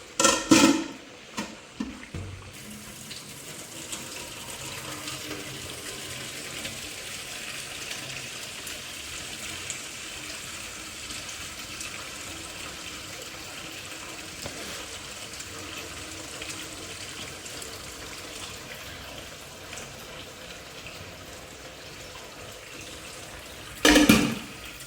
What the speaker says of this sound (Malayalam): നമുക്ക് കപ്പ ഊറ്റാം